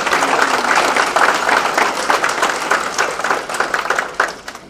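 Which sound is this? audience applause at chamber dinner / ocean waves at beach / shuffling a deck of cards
audience applause at chamber dinner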